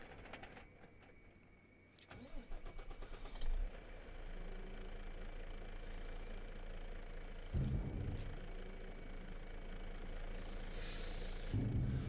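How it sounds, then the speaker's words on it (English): A tractor or farm vehicle engine runs steadily in Farming Simulator 25, a constant idling drone with a few louder mechanical bursts and hissing air-release sounds, no talk over it. "I need the engine on for that to work."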